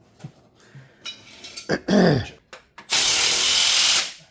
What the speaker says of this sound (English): the other bloke's back here with 4 extensions and a rattle gun